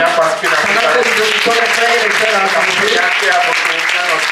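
A church congregation at a Sunday service applauding, a dense sustained burst of clapping mixed with voices and cheering throughout.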